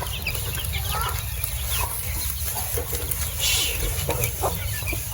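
Chickens cluck and chatter around a backyard grill, close and fairly quiet, with scattered short calls over a low background rumble.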